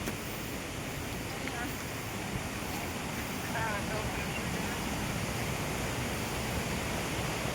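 Large Wang Muang waterfall in Thailand, a steady, dense roar of rushing water heard close by along a forest trail, with faint voices mixed in and no break in the sound.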